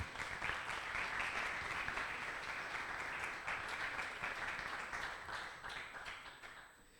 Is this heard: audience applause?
yes